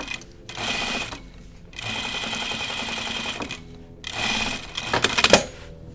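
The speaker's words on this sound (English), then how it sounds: "So I'm going to understitch the pocket bag" A sewing machine understitches the pocket bag of a pair of jeans, running in three loud, steady bursts of fast stitching separated by short pauses, the last one ending in a few sharp clicks.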